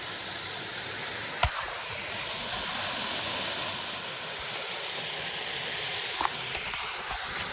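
Steady rushing roar of a waterfall pouring over bedrock in an Appalachian mountain stream, a broad continuous hiss with two brief knocks, no voices.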